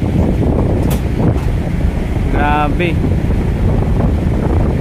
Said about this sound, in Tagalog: Talagang ramdam na ramdam po natin dito sa may taas ng footbridge yung lakas ng pag-ihip ng hangin.